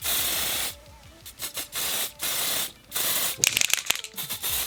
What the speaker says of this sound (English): You can't just spray it on and leave.